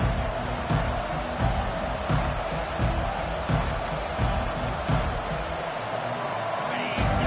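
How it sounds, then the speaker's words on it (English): A football stadium crowd roars through a Senior Day game, a loud, sustained roar with scattered whoops and cheers rising and falling. "This crowd bringing an ear-splitting welcome to their visitors."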